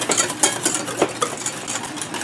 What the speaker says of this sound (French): On brasse comme faut entre chaque fois